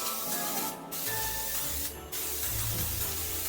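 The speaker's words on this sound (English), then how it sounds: "really spray down the pan I'm gonna cook the cookies on with some coconut oil spray" Two short hissing bursts of coconut oil cooking spray onto a pan, about a second apart, over a steady background hum.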